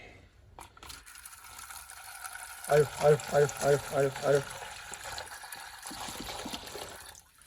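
Water pours from a jug into a pigeon cage as a steady wash of splashing, while a nearby man gives six rhythmic, loud vocal calls midway through.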